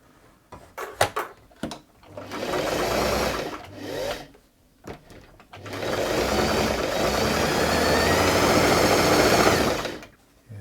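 A Singer 328P sewing machine stitches in two bursts, a short run and then a longer steady whirring drone with rapid needle chatter, close up, framed by clicks and handling knocks and no speech.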